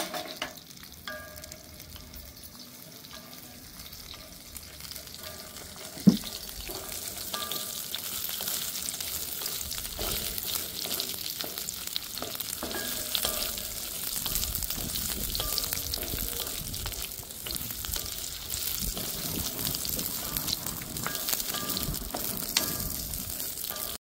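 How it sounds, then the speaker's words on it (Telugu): Dry mutton pieces frying in oil, a soft crackling sizzle that grows after a sharp clank and continues steadily, fairly faint with no speech. "4-5 స్పూన్లు ఆయిల్ వేసుకొని ఫ్రై చేసుకుందాం."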